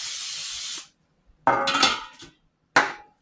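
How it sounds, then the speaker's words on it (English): Cooking spray hisses onto non-stick cake pans in one long spritz, then two shorter bursts, each followed by a light metallic clatter of the pans, close and clear with no talking. "I'll spray them again because I don't want them sticking"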